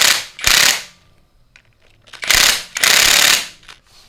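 A bolt on a Honda Supra motorcycle's crank gear retainer is driven in with a power tool or ratchet in two loud, close bursts separated by a quiet pause, no voices.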